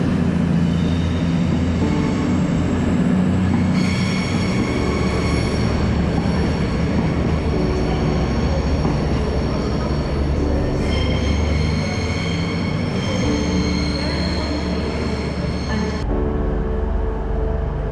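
A diesel train on partly electrified routes rumbles steadily along the rails, with continuous close running noise, wheel squeal tones and faint rhythmic clatter.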